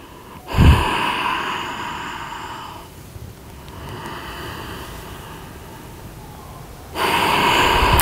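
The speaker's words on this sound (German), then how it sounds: "Finde gleichmäßige Atemzüge." Slow, steady breaths during an evening prenatal yoga session, with a sharp sniff or snort near the start and long, even airy inhales and exhales continuing close to the microphone.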